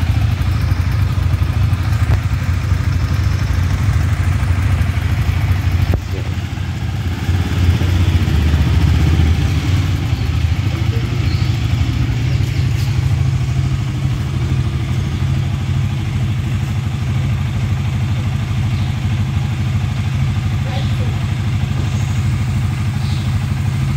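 Motorcycles idling and rumbling on a highway during a long-distance ride, a steady loud low engine drone with clattering and brief throttle changes, continuous throughout.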